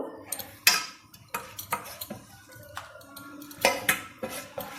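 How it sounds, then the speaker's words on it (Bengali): Food washed by hand in a bowl of water while cooking a Bengali snack with potato, giving scattered clinks of metal utensils and bowl with soft watery sloshing between them, close and fairly quiet. "এই যে জলে ফেলে ধুতে হবে"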